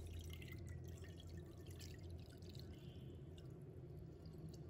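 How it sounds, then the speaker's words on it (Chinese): Cloudy water from washed rice is poured out of a pot, a steady close trickling and splashing stream that runs throughout with no voices. "清洗干净之后，再把淘米水倒出来。"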